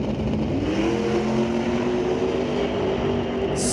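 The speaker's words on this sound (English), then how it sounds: "Solid launch for both cars" Two drag race cars launch off the line at an NHRA Northwest National Open Series event at Mission Raceway, engines roaring loud and sustained with a rising revving pitch, close by and without speech.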